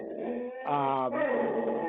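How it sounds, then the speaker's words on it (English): A dog growls and barks close by in a home during a remote town meeting, a sustained harmonic bark-growl swelling in the middle of the clip with no talk over it. "Sorry about the dog as well."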